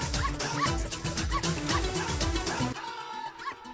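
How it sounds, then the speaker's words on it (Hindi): Dog barking in a Bollywood comedy movie scene, loud repeated barks over a busy soundtrack of music and noise, cutting off abruptly near the end to a quieter background. "अरे कोई बचाओ भैया, इस कुत्ते से बचाओ।"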